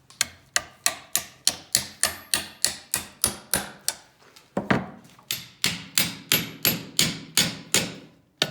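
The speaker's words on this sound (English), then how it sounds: "just kind of hammer out the end here to where, you know, it's not going to slide off in case the epoxy fails" Steady, evenly spaced hammer blows ring out close by as the end of a forged kukri handle is peened over, about twenty sharp metallic strikes with one brief pause midway.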